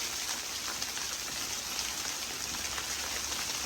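Rain falls steadily on a chicken coop housing turkeys, silkies, chicks and hens, giving a dense, even patter with no gaps and no voices.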